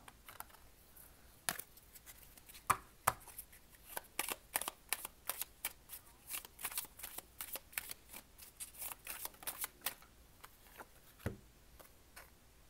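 Playing cards being handled and shuffled up close, a dense run of crisp riffling clicks and flicks in irregular bursts, with a few louder snaps, and no talking.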